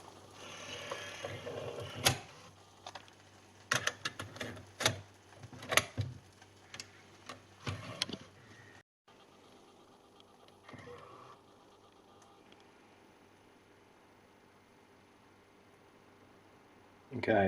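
The tape mechanism of a 1998 Canon UC6000 8mm camcorder clicks and whirs in short, close mechanical bursts, followed by a quieter steady motor hum and a faint tick before a louder clunk at the end.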